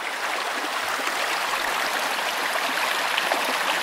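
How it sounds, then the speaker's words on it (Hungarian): A forest stream in the Zemplén hills flows steadily, a continuous close rushing hiss of water with no pauses and no voices. "ezen a ponton aztán folyik a patakban mindenhol a víz"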